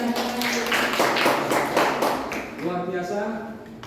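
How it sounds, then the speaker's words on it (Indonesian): Classroom applause after a student group presentation, a burst of many hands clapping fairly close and loud for about two and a half seconds, then fading as a voice speaks. "tepuk tangan semuanya"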